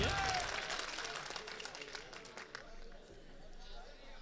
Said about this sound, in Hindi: तालियां बजा करके एक बार हौसला बढ़ाइए